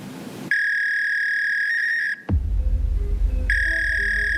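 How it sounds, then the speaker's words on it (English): Steady high fax-machine tone heard over a phone line, cutting off briefly before a low rumbling burst, then the same shrill handshake tone returning, loud and alone without speech. "you'll know that sound was to a fax machine"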